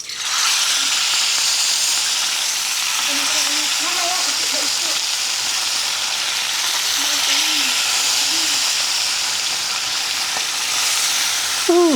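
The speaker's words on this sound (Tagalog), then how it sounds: "Mainit na po yung ating mantika. Magpiprito na po tayo." Food frying in hot cooking oil, a steady broadband sizzle filling the whole stretch at close range, with faint voices and brief tonal sounds in the background.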